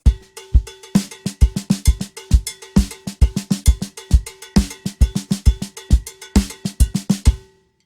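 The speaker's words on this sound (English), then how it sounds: "So the double paradiddle, right, left, right, left, right, right, left, right, left, right, left, left." A rapid double paradiddle drum rudiment of alternating single and double strokes on a bright, cowbell-like surface, steady and even, played alone.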